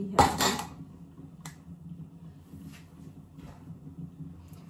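A single clatter of pots and utensils rings out at the start, then softer scrapes and taps follow at a steady home-kitchen pace while eggs and vegetables are being cooked.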